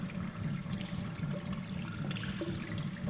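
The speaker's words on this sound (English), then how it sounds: "Ah, I hear water." Rushing water in the Portal puzzle game, a steady, loud wash of flowing water that fills the space continuously with no talk over it.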